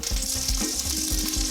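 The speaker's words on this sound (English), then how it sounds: "Here's how you check and see if your oil's ready." Very hot oil crackles in a pan, tested before eggs go in for fried rice, with a dense close sizzle and a few quick low pops and taps in a short burst.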